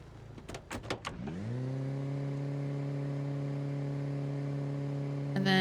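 A car in the zombie survival game Project Zomboid: a few sharp clicks and knocks, then the engine settles into a steady, humming idle that holds evenly until the clip ends.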